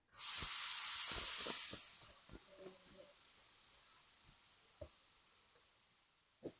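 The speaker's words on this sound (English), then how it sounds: "my mother is cooking" Food cooking in a home kitchen gives a sudden loud burst of hissing, sizzling steam for about two seconds, then settles into a faint, steady background hiss broken by a few soft clicks and knocks.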